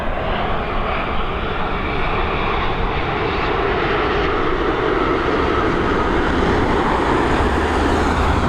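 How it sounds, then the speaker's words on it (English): A Boeing 787-8 Dreamliner departs Dublin Airport with a loud, continuous jet engine roar that holds steady and dense throughout, heard from a spotting position near the runway with no voices. "Here we go, this 787-8 Series."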